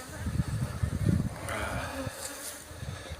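Honeybees from a recently caught swarm buzz steadily at a beehive frame with honeycomb, a dense, close drone with louder surges early on and a few faint clicks.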